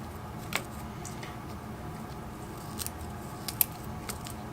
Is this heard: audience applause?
no